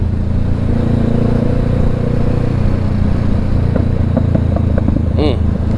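A Honda CBR500R motorcycle runs with a loud, steady exhaust and engine drone under heavy wind rush while riding, with a few faint higher tones near the end.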